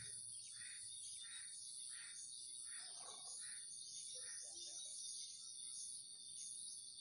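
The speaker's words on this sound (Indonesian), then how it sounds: "Anak burung." Baby birds chirp inside a nest in a quick series of soft, high calls, set against a steady background hum of insects and crickets.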